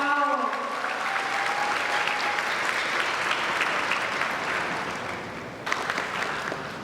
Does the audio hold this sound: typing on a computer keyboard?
no